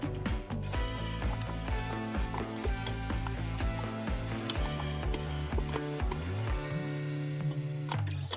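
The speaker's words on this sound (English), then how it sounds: "Now we're going to mix the butter and sugar together using the paddle attachment." A stand mixer with the paddle attachment beats butter and sugar, giving a loud, steady mechanical whir with rhythmic clicking and knocking from the gears and bowl.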